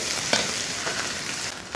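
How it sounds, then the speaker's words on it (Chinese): Star anise, cinnamon, bay leaf, tsaoko, scallion and ginger fry in hot oil in a pot, giving a steady, close sizzle and crackle with no talking. "锅内加入8角、桂皮、香叶、草果等，然后再加入葱姜炒香"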